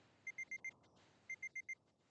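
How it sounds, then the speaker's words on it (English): A smartphone alarm going off in a video game sounds as two quick bursts of four bright, evenly spaced electronic beeps, separated by a short pause, alone and fairly faint. "Suddenly, my smartphone alarm went off."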